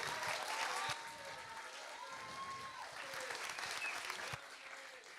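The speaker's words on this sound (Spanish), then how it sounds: "Un aplauso para él." Applause from a live audience at a Colombian humor storytelling event, steady clapping filling the room for several seconds with brief louder bursts, faint whistles and crowd noise mixed in.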